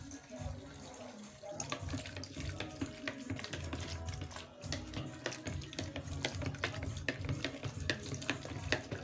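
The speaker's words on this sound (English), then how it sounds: "I need to stir properly also. So I keep stirring." Spirit-based antiseptic disinfectant mixture with isopropyl alcohol being stirred by hand: steady, busy clicking and tapping with a wet sloshing undertone, close and moderately quiet, continuing without pause.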